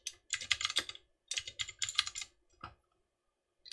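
Typing on a computer keyboard while writing up adventure notes for a tabletop game: close, crisp key clicks in two quick bursts, then a single short tap after a pause and one more near the end.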